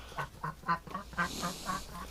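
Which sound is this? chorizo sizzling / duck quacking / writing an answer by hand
duck quacking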